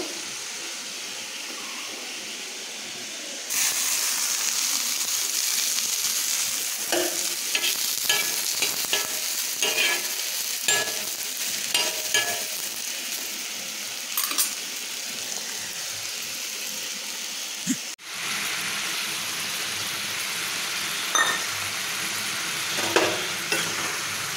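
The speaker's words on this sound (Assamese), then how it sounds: "এতিয়া তাৱাখনত ভাজিম এয়া সয়াবিনখিনি ভাজি ইয়াতে সবজি দিব লাগিব" Soybean chunks fry on a tawa, giving a steady close sizzle that starts abruptly and runs throughout, with scattered stirring scrapes and clicks of a spatula and a brief break near the end.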